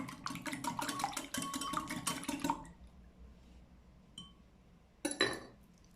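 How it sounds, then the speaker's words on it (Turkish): Egg yolk being whisked by hand into leftover sauce in a bowl for an aubergine börek topping, a fast run of sharp metallic clinks for a couple of seconds, then quiet with a few stray taps and one last brief burst. "Artan sosun içerisine bir tane yumurta sarısını ilave ediyorum. Ve şöyle çırpıyorum."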